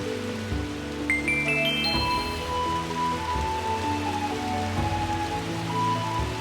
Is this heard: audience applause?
no